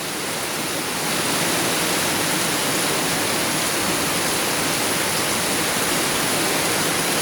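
Heavy rain pours down in a steady, dense roar of hiss with no pauses, loud and close throughout.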